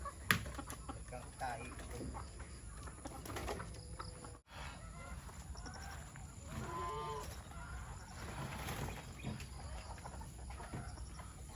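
Chickens cluck on a farm at afternoon feeding time, a steady close chorus of squawks and calls with other livestock noises mixed in throughout.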